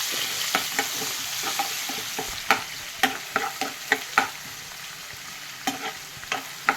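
Ginger and garlic frying in oil for a pickle, with a soft continuous sizzle and a series of sharp, irregular clinks and scrapes from stirring in the pan, fairly close and with no talking.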